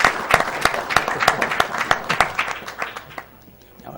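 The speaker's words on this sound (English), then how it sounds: "I got an applause from the audience for that" Audience applause rises through a gathering at a speedrun charity marathon, a dense crowd of clapping with sharp individual claps, fading toward the end as the noise dies away.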